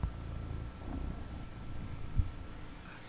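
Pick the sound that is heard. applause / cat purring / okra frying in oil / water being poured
cat purring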